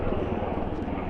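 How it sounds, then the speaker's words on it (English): A Coast Guard helicopter passes overhead near Grand Traverse Lighthouse on the Michigan dunes, its steady rotor and engine drone filling the air continuously and fairly loudly, with voices present alongside. "The helicopter flying over."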